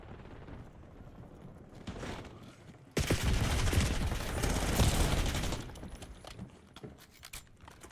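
Gunfire crackles in a video game shooter, with scattered quieter shots giving way to a dense, loud burst of blasts lasting a couple of seconds before fading back to sporadic pops.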